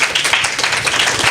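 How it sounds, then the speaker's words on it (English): A crowd applauding steadily, dense overlapping claps filling the space at a fairly loud, even level throughout. "give everyone here a round of applause for"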